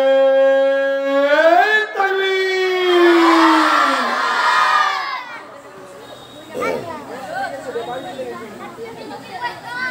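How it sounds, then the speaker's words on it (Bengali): At an Islamic religious gathering in Godagari, Rajshahi, one amplified voice gives a rising call and a crowd answers with a loud, long collective shout of the takbir. Chatter and scattered voices follow. "জবান খুলে তাকবীর জোরে সরে আমরা দেব"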